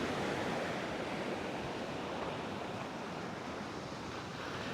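Surf washing onto Clifton Beach mixed with wind buffeting the microphone, a steady, loud broadband roar that holds without a break throughout, with no voices over it.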